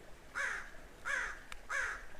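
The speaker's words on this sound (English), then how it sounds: "I think the crow is saying, get out, get out" A crow gives three harsh, evenly spaced caws, each a raspy descending call about two-thirds of a second apart, moderately close over a quiet outdoor background.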